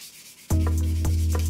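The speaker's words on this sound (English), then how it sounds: "we are going to sand off any raised grain and bring it up to about 400 grit" Raised grain is sanded off a soaked wooden knife handle, working up to 400 grit. A steady, loud motor-like hum starts abruptly and runs continuously, with brief rougher sanding bursts recurring every half second or so.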